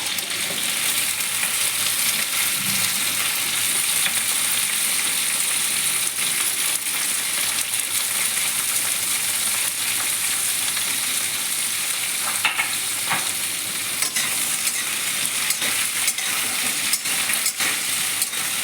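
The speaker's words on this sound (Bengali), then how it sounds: "হালকা হালকা করে ভেজে নেব" Pumpkin frying in a pan with small mourala fish, a loud, steady close sizzle running throughout with occasional faint stirring scrapes.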